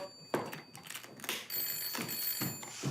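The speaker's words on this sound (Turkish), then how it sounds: "Anne telefon." A telephone bell rings in repeated bursts, with clanging metallic tones in a quiet room and no voices.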